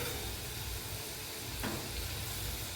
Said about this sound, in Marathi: मंद आचेवरती हिला तळून घ्यायची म्हणजे ती चांगली क्रिस्पी बनते